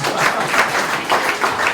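Audience applause for John on stage at a founders conference, steady broadband clapping from many hands filling the room, with faint voices mixed in.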